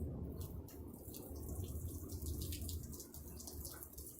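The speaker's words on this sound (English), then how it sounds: "now we can see that we're ready to squish the water out." A press squeezes water out of freshly made sheets of handmade paper, giving a steady, faint trickling and splashing of runoff that lasts throughout with no voices.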